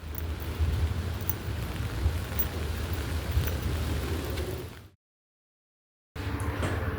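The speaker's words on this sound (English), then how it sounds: "It rained." Rain falling outdoors in Osaka, Japan, a dense steady hiss and patter that cuts to complete silence for about a second before resuming, with no voices.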